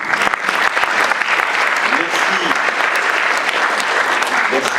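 Audience applause welcoming a speaker at an evening opening event, a full, steady wash of clapping from a sizable crowd, loud and close, continuing throughout with faint voices underneath.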